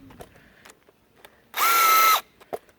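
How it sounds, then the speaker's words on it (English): A power driver whirs for about half a second, driving a bolt into a drilled hole in track fabrication work. A few light clicks and taps of handling come before and after the burst. "then I can just drive them in with my driver"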